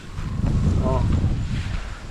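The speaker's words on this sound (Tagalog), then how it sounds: "Tapos medyo mahangin konti dito guys." Steady wind buffets the microphone with a low, rumbling roar that continues throughout without letting up.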